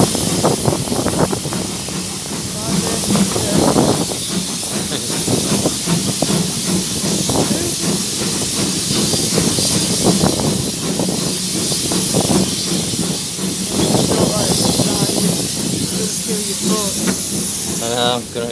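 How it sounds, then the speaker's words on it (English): Steam locomotive at Oakworth station hissing steam continuously and loudly, a dense roaring spray of sound that runs throughout, with people talking under it. "the more that burns, the more steam comes out of the chimney"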